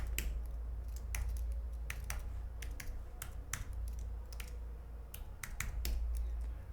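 Keys clatter on a computer keyboard while a new root password is typed on a Red Hat Enterprise Linux 10 test system. Clusters of sharp clicks come in uneven bursts over a steady low hum, close and alone with no talk.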